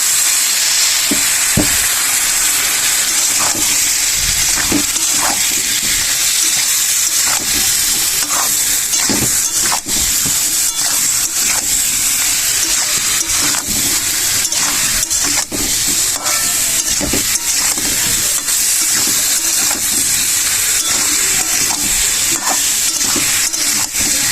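Taro and potato fry in oil with spices in a pan, giving a steady loud sizzle and hiss. Scrapes and knocks from stirring break in throughout, and no one speaks.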